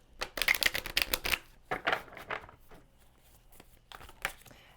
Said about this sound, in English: Right now we're going to pull, or actually shuffle, the animal spirit cards